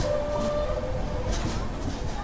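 A MEMU train rumbles past at Vijayawada junction, a loud, steady rolling roar with a faint high tonal whine through the first half and no clear voices.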